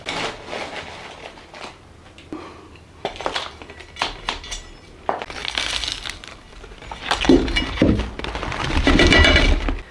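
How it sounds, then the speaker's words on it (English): A plant pot of a Pilea peperomioides, freshly filled with potting mix, is smacked and knocked around, giving a series of irregular dull thumps and crunchy rattles, close by with no voices. "You want to smack it around a little bit so there's no air pockets where there's no potting mix."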